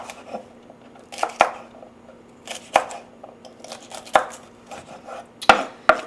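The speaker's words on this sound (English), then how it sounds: "And then we're going to cut these up in about 1/2 inches each." A knife chops vegetables into half-inch pieces on a cutting board: crisp, loud, close thuds spaced about a second or so apart, with a faint steady hum in the background.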